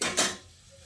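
A lid set down on a cooking pot of cauliflower and potatoes gives a single close metallic clank, followed by a short ringing scrape that fades into quiet.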